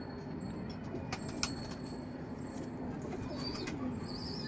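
Pigeons coo faintly against a steady low background rumble, a few soft calls and brief bird notes surfacing now and then, with no voices.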